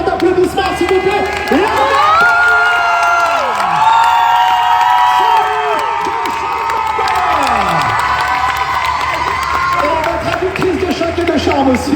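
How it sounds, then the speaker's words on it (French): A convention crowd at a Paris panel for Once Upon a Time greets the guests with loud applause, cheering and high whoops, sustained and close, with excited shouts rising and falling over the clapping. "accueillez-les comme il se doit avec un tonnerre d'applaudissements, s'il vous plaît"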